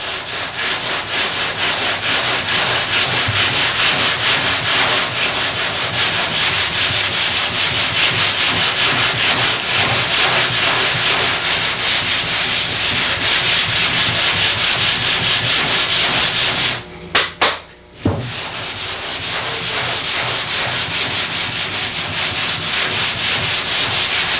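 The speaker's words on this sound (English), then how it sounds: "get some 180 on a small sanding block and start sanding it to get all the scratches out" Steady hand sanding of automotive primer with 180-grit paper on a small block, a continuous scratchy rubbing that runs without pause, stopping briefly near the end before resuming.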